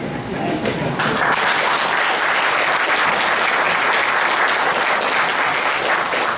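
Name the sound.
audience applause after a speech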